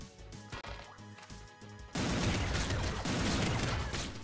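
A rocket weapon fires in the game Nuclear Throne, a sudden dense burst of loud, crackling blasts that cuts in over quieter rhythmic game music and carries on for a couple of seconds.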